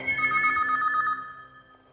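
A telephone rings inside a house, one short electronic ring burst that fades out.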